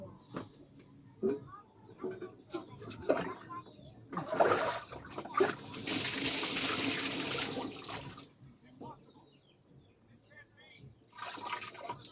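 Water runs from a tap in a steady rush for a few seconds, with a person talking before and after and small handling clatter.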